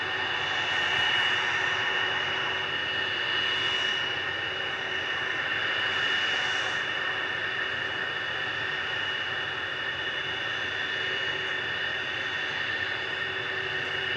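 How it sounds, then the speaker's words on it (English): Bombardier Challenger 850 business jet operated by AirX at Manchester Airport, a steady whining jet engine drone with bright tonal whine over broadband rush, moderately loud and distant, continuous with no voices. "That's a Bombardier Challenger 850 of AirX."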